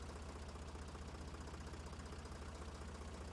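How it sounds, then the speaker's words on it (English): A farm tractor engine in a farming video game, a steady, loud, rhythmic diesel thrum that holds unchanged throughout with no other sounds. "We need to go race that tractor"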